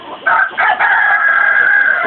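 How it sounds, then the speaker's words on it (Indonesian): A rooster crows at a village fish pond, one loud, close call that rises and holds a long drawn-out note, with only faint background sound before it. "Nah, tuh ada ayamnya."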